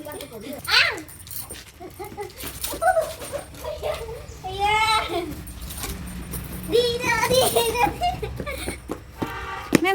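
A dog whimpers and lets out high whining yelps close by, mixed in with people talking and some jangling in the background.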